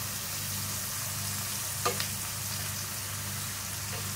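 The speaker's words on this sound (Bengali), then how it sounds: "একটু গোলমরిচ গুঁড়ো দিচ্ছি। দিয়ে কষছি।" A steady, close sizzle of frying in a pan as ground black pepper is added and stirred in, with one brief scrape of a spoon near the middle; no voices.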